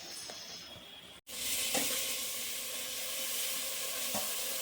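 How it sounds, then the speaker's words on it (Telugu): Freshly washed mutton drops into a hot pan for a home-cooked curry, bursting into a loud, steady sizzle after a brief gap, with a few clinks of stirring over the continuous hiss. "మంచిగా ఫ్రెష్గా కడిగి పెట్టుకున్న మటన్ అయితే వేస్తున్నారు."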